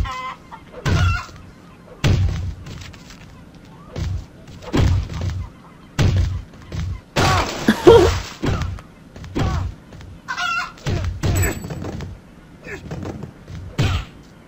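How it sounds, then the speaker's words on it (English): Chickens cluck in the video game The You Testament alongside repeated dull thumps of hits landing on them, arriving in short bursts every second or so, with a voice talking over parts of it. "I'm hitting a chicken"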